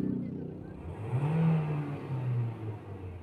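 A 2012 Toyota Vios engine that lacks pulling power, revved once from idle into a rising then falling roar, close up and fairly loud, with brief talk near the start.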